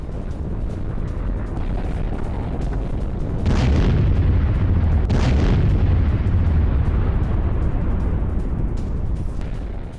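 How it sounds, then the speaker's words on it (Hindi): Heavy, rumbling cluster bomb explosions roll on continuously at Russian posts in Kursk, with two sharper blasts bursting out above the deep, sustained roar. "उसके बाद देखिए जोरदार धमाका हुआ है कुर्स्क में"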